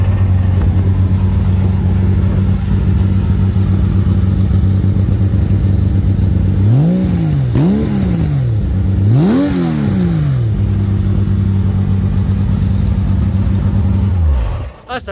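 Race car engine at the Lédenon circuit, loud and close, idling steadily before three quick revs that rise and fall, then settling back to a rumbling idle that cuts off abruptly.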